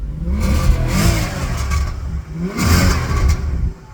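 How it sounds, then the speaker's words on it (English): A Maserati 4200 V8 engine revs twice with throaty, burbling exhaust, loud and close, each rise and fall lasting over a second; no voices. "you get those beautiful burbles, because this car, if we're honest, is all about that engine"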